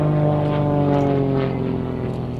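A Grob Tutor propeller training aircraft flies past at an air festival, its steady, loud engine drone and propeller hum filling the air with a slight pitch shift as it passes.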